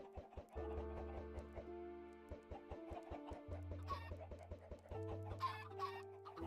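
Free-range backyard chickens clucking at a homestead, several birds close by with repeated short clucks and calls running continuously through the clip.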